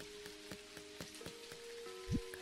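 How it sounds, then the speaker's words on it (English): Soft, steady video game rain patter with regular tapping drops and a faint low hum underneath, quiet and continuous. "Sound of the rain is very soothing."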